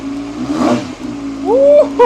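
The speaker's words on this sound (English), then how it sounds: "Oh, the bike is running." Wrecked 2013 Kawasaki ZX6R motorcycle engine running, a close idle hum that swells into a short climbing rev near the end.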